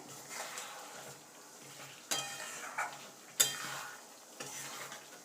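A spoon stirs pointed gourd through mustard and poppy seed paste in a pan. It scrapes and clinks in irregular strokes, with a soft sizzle underneath and a few sharper metal knocks against the pan.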